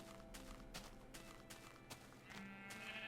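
Minecraft sheep give short bleats in the game, faint and brief, mixed with rhythmic footstep and block-breaking clicks at a steady pace.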